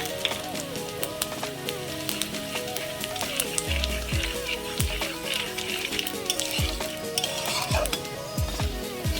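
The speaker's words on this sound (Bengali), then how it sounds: "ওর মধ্যে ফোড়ন দিয়ে দেব জিরা" Cumin, chili and cardamom tempering frying in hot oil in a home kitchen pan, a steady close crackling sizzle with stirring and utensil clinks throughout.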